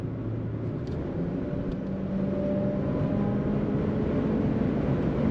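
A 2006 Cadillac XLR-V engine accelerates while overtaking a car on the road, heard as a steady low droning rumble from inside the cabin that swells slightly as it goes on.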